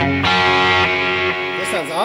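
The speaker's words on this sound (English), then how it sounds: "This is a Tweed. This emulates a Fender Bassman 410." Sustained electric guitar chords ring through a Boss JS-10 Tweed amp model emulating a Fender Bassman 410, lightly driven and close, with a short bending phrase at the end.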